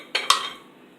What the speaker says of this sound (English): I already cooked my plantain, so I'm going to pour it in the blender.